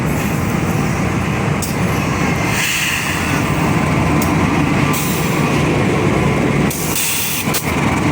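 A KA Lodaya passenger train stopping at Nagreg station, a loud, continuous roar of wheels and engine rumbling close by with steady rushing noise throughout and a few sharp rail clanks.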